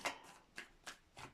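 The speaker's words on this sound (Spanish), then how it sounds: "Voy a barajar otro poquito." Tarot cards being shuffled by hand in four quick, soft riffling bursts spaced about a third of a second apart, close and quiet.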